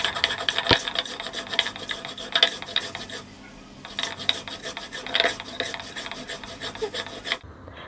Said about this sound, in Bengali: মরিচের সাথে স্বাদ মতো লবণ দিয়ে প্রথমে বেটে নিব